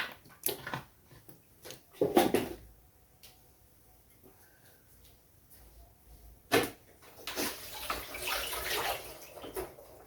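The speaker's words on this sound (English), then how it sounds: "Let me go wash the potato that fell." Tap water runs in bursts while a fallen potato is rinsed at a home kitchen sink, with intermittent splashing and clatter between quieter stretches.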